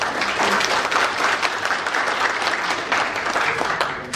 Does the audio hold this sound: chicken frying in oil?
no